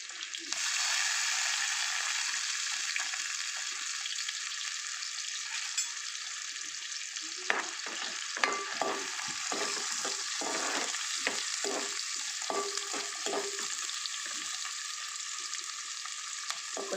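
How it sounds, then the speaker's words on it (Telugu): Onions sizzle and fry in a pan for a Telugu cauliflower curry, a steady hiss of oil with scraping stirs and small clatters breaking through in the second half. "కొంచెం ఉల్లిపాయలు వేగనిచ్చి"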